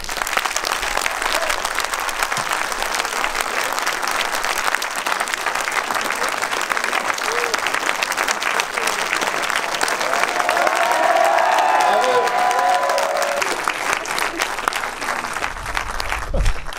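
A crowd in Savoie applauds loudly and continuously to welcome motorcycle racer Johann Zarco at a film presentation in Valmeinier, the clapping swelling slightly midway, with faint voices and cheers mixed in.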